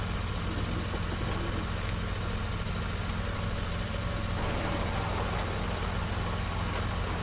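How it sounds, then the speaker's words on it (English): A constant low mechanical drone with a steady engine hum and a fan-like rushing layer on top, unchanging throughout, from a Rau Unisem air drill seeder in Farming Simulator 19. "Even sounds like an air drill."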